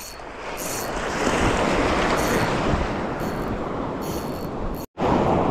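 Surf rolls onto the shore at Sifah Beach in Oman, a loud, steady broadband wash of breaking waves close by, broken by a brief dropout near the end.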